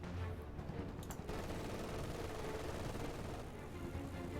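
MG42 machine gun firing in a Company of Heroes 2 battle, a faint, steady stream of rapid distant shots blended with other battlefield gunfire and low rumble.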